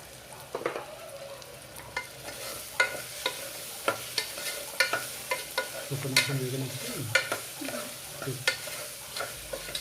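Tomatoes frying in a pan for Telangana-style gongura mutton, a soft continuous sizzle broken by repeated scraping and clinking stirs of a spatula at a loose, irregular rhythm, close and clear with no talking.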